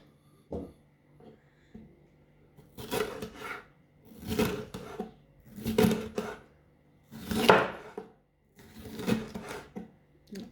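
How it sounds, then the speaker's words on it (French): A knife slices a bell pepper into thin strips on a cutting board, giving about seven separate crisp cutting strokes with short quiet gaps between them, close and clear. "Donc, je le découpe en fines lamelles."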